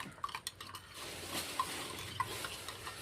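Two eggs are beaten in a bowl for caramel pudding, with a utensil clinking sharply against the bowl a few times amid soft, steady scraping and stirring. No one speaks.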